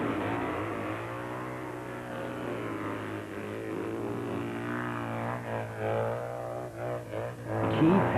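A 1,200cc Honda motorcycle taking off up a hill at a hillclimb event, the engine droning steadily and building as it accelerates, fairly distant.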